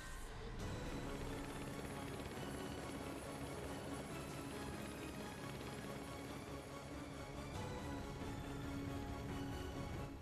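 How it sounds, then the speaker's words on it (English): The engine of the flying fortress Daedalus in Ninja Gaiden Sigma 2 gives off a dense, steady mechanical roar like a helicopter, loud and constant throughout, with a faint voice in the background. "It's a big aircraft."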